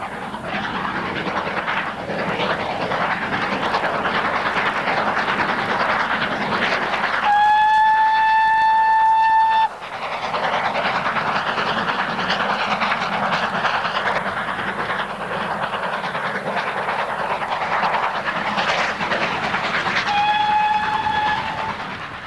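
A GWR Manor class steam locomotive, 7802 Bradley Manor, rumbles steadily past with rhythmic mechanical clatter, punctuated by two loud, sustained whistle blasts, one mid-way and a shorter one near the end.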